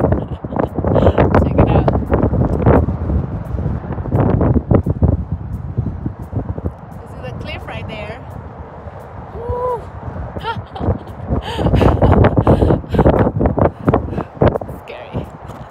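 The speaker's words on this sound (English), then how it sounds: "It is super windy." Strong wind buffets the microphone in heavy gusts, a roaring rumble that rises and falls, easing briefly midway before surging again.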